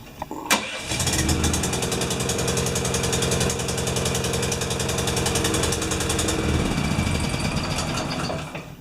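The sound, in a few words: Honda GX390 pump engine running rough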